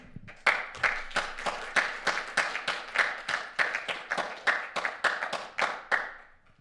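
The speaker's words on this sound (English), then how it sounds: "from the room, we send a warm applause to Tiago and Santi for the great keynote." Steady applause from a modest conference audience after a keynote, a run of crisp, evenly spaced claps close to the microphone that stops abruptly.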